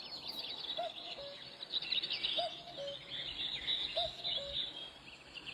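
A cuckoo gives its two-note falling call three times at an even pace, fairly faint and distant, over a busy bed of other birdsong and insect chirping.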